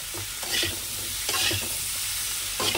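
Pumpkin with green chilli is sautéed in a pan for a Bengali dish, a steady close sizzle with repeated scraping stirs of a spoon at uneven intervals.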